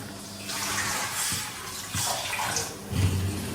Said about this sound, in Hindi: तो इसमें है ना तब तक पानी भर के रख दूंगी, स्टीम करना है ना हमें